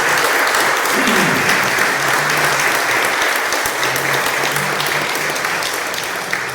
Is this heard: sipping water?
no